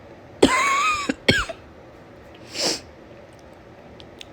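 A congested woman with a stuffed-up nose gives two wet, harsh coughs close up, followed by a short sniff or snort, with quiet pauses between.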